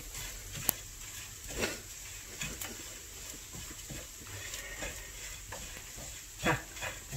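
Grated coconut roasting in a pan with cumin and garam masala for a Kerala fish curry, faint soft scraping stirs and light sizzle, with a few sharper scrapes of the spoon, no talk.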